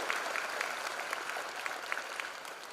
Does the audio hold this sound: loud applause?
yes